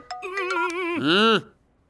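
A phone rings with an incoming call in a Hindi-dubbed film scene: a clear, close electronic ringtone melody of rising and warbling tones that lasts about a second and a half.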